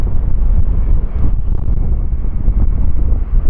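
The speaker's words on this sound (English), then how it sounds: "try and remember the noise of these big aircraft" Large airliner jet engines roar at the Farnborough Airshow, a heavy, continuous low rumble with wind buffeting that holds steady and loud throughout, with no voices.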